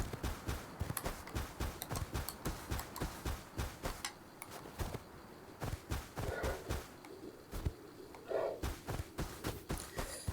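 Horse hooves clip-clop in the game Rust, a quick steady run of sharp, close hoof strikes that eases briefly, then picks back up in an even gallop-like rhythm, with no talk over it.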